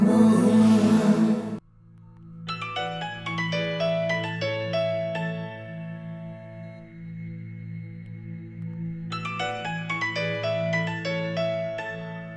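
A mobile phone rings in a Pakistani drama scene, a melodic electronic ringtone of bright repeating notes that plays loud and clear for several seconds, pausing briefly before resuming, after a burst of dramatic music cuts off.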